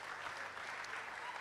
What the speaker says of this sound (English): Please, let's give a round of applause for him